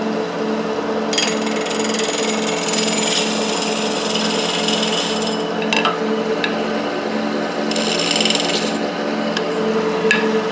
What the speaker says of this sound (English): we'll trim the back edge nice and square so we're not having that sharp wobbly edge hanging around